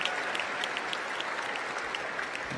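A crowd applauds at the men's elite 20-inch UCI Trials World Cup round in Berlin, 2018, cheering a rider who cleared a section. The clapping is steady, dense and continuous throughout, with no voices on top.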